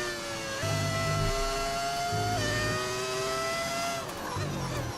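A Formula 1 race car engine in the F1 25 racing game screams at high revs, pitch stepping up through gear shifts with a short lift near the end, loud and continuous with no talk.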